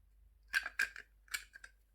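Metal scissors scrape and click in short, close, quiet bursts while working a notched H-type spanner screw, about five or six sharp clicks over a couple of seconds.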